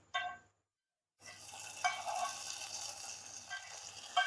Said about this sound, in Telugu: వేపితే మళ్ళీ బ్లాక్ వచ్చేస్తాయని లైట్గా వేపుతున్నాను